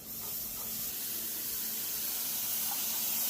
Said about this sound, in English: Let's listen for that sizzle